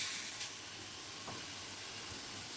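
Potatoes go into a pan of frying pui shak flowers, bringing a steady, soft sizzle and hiss with a few faint stirring clicks, quiet and close.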